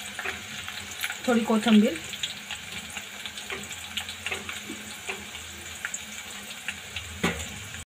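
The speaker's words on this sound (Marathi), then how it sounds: "आता कांदा असा चांगला लाल झालेला आहे, त्यामध्ये आपण थोडी पुदिन्याची पाने टाकून घेऊया." Browned onion and mint leaves frying in a pan, a low steady sizzle with light stirring scrapes, while someone speaks briefly near the start.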